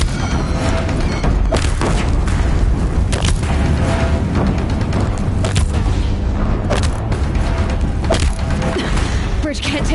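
Explosions rock a bridge in Horizon Zero Dawn, with repeated heavy booms and crashes over a constant loud rumble of battle, packed closely together throughout.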